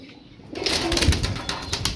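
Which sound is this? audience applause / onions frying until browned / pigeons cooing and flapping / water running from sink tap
pigeons cooing and flapping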